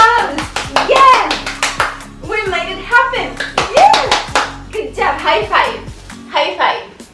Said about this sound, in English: Come into a comfortable seat and let's applaud